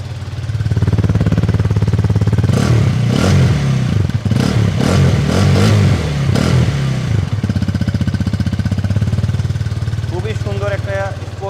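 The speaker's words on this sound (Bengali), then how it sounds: "যথেষ্ট পাওয়ারফুল একটা এক্সস্ট সাউন্ড আপনারা পাবেন।" A 2024 Hero Karizma XMR 210cc motorcycle with a sporty exhaust idles loud and close at a Tejgaon showroom, revving in several bursts mid-clip before settling back to a steady throb, with possible voices in the background.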